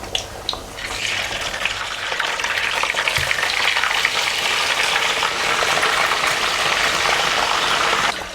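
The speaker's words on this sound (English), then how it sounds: "while it's cooking, I will fry the meat" Meat frying in a pan for Nigerian ogbono and okra soup gives a dense, continuous loud sizzle with a few soft stirring knocks at the start, no voices over it.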